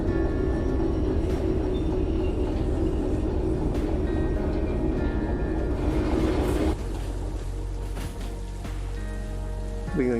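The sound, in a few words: train shunting in the video game Derail Valley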